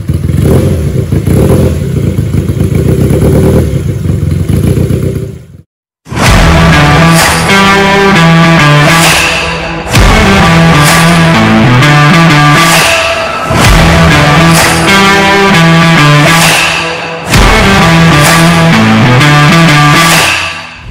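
A Jupiter Z motorcycle with a 250cc two-cylinder eight-valve engine idles roughly, cuts out briefly, then revs repeatedly in loud, rising bursts, close by.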